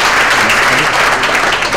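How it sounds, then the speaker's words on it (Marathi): An audience at a felicitation ceremony in Mumbai breaks into loud, dense, sustained applause, steady clapping filling the hall with no pauses. "जोरदार टाळ्या आपण त्यांच्यासाठी."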